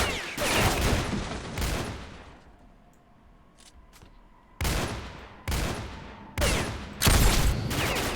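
Bursts of weapon fire in S.T.A.L.K.E.R.: Shadow of Chernobyl: a loud volley, a pause with faint ambient sounds, then several sharp separate shots and another short burst near the end.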